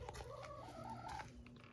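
Fowl in a backyard chicken coop make a short burst of soft, warbling, gobble-like calls close by, fairly quiet, with no talking.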